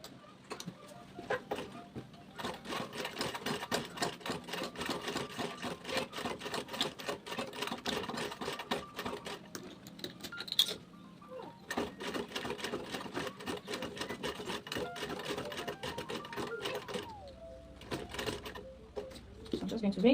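A sewing machine top stitches a bag lining from the inside, running in long stretches of rapid needle chatter with a pause midway and quieting toward the end.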